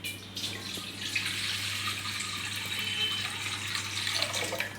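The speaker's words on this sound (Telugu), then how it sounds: "తర్వాత గిన్నె పెట్టుకొని అందులో సరిపోయిన వాటర్ వేసుకోవాలండి." Water runs into a cooking pot set on a stove for noodles, a steady close hiss and splash that continues unbroken for about five seconds over a low background hum.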